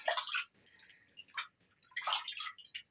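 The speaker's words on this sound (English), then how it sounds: "So I'll wash it off my hands." Water splashes and trickles at a sink as hands are rinsed, in irregular close bursts of running and dripping, fairly quiet with no talk.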